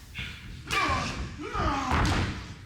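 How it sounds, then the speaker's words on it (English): A wrestler clubs forearms onto an opponent's chest in a pro wrestling match, producing a few dull thudding slams amid crowd noise and voices. "Clubbing forearms to the chest."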